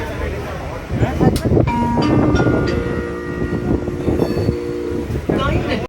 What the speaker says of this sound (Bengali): তো ট্রেন দিয়ে দিয়েছে, ট্রেনটি ব্যান্ডেল স্টেশনে যাবে